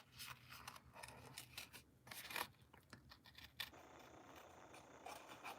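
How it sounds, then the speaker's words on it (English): Scissors snip and rasp through paper while fussy cutting around a stamped dog image, quiet close-up crunching cuts in irregular bursts with brief pauses between. "Making it a little hard for me to move my scissors around"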